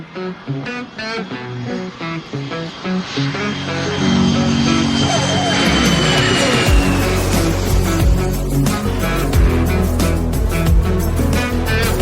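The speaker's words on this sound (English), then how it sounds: "runway 27, clear for takeoff" A small aircraft's engine builds from a lower idle into a loud, steady roar as the plane starts its takeoff run on the runway, the pitch and volume rising and holding near the microphone.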